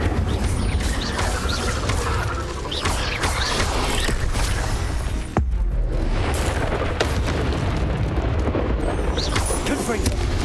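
An Incendio fire spell is cast in Hogwarts Legacy, a burst of magical flame that is loud and dense. It sits among booming, crackling game effects and a continuous wash of game noise, with a voice speaking over it.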